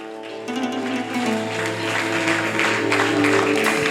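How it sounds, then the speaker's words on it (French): Audience applause at a televised singing competition, a steady wash of clapping that swells gradually beneath sustained background music, with no clear voices. "On applaudit pour elle."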